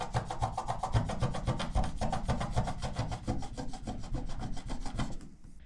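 Close, steady rubbing of 2000-grit wet sandpaper worked by fingertips over small paint spots on a car body, with quick back-and-forth strokes that run continuously and stop just before the end.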